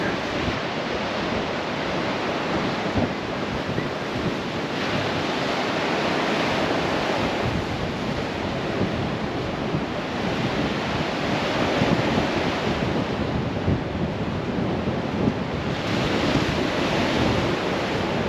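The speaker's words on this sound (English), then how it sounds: "And here we are at Waihe Beach Park." Surf rolls in continuously at Waihee Beach Park on Maui, a loud, full wash of breaking waves mixed with wind buffeting the microphone, with no voices.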